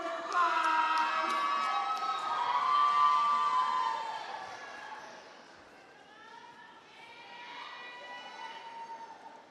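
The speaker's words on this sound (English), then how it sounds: "Give them a big round of applause" Audience cheering and applauding as adult dancers in an over-50 category take the stage at a dance competition, loud at first then fading, with a voice speaking over the crowd.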